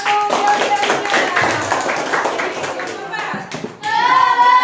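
Classroom of junior high students clapping for a student group, a lively burst of many hands under loud voices, with children's chanting or speech rising near the end.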